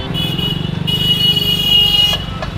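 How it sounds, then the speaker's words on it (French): Car horns honking in busy Indian street traffic, with steady, sustained tones held over a loud rumble of engines and motorbikes. "Alors ici ça klaxonne tout le temps."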